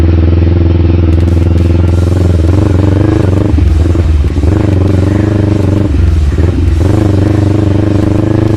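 Motorcycle with a high handlebar being ridden on an adventure route in Bulacan, its engine droning loud and steady throughout with rough clattering bumps and brief dips, close to the rider.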